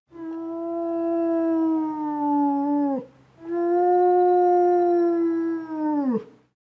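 A wolf howls in two long, loud, clear calls, each holding a steady pitch before sliding down and breaking off, followed by a brief shorter yelp at the end, with no talk.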